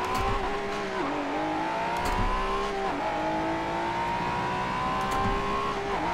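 Race car engines roar and rev in Forza 7, a steady high-pitched drone with upshifts and dips as a Lambo and McLaren race close by, plus brief tire squeal under braking and no talk.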